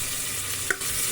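Whole spices such as cinnamon fry in a pan for chicken biryani, giving a steady close sizzle with one brief stir scrape, and no talk.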